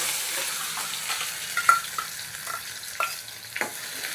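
Hot oil sizzles steadily with a crackling hiss as spices temper for a soybean curry, while a utensil scrapes and stirs in a pan, close up and without any voices.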